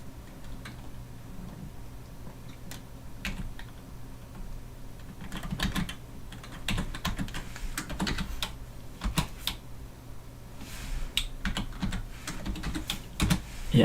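Rapid, irregular keyboard clicks of typing on a computer keyboard during 3D modelling work in Blender, with dense bursts of keystrokes, close and moderately loud, over a low steady hum.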